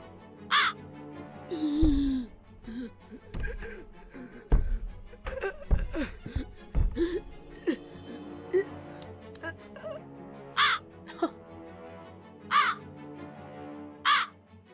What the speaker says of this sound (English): here's the crow again